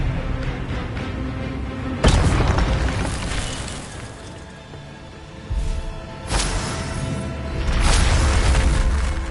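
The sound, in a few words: spell casting explosions in video game Hogwarts Legacy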